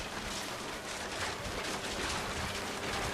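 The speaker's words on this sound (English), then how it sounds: "Rain came down in buckets then," Steady heavy rain in What Remains of Edith Finch pours down in a dense, continuous hiss with no voices, filling the whole stretch evenly.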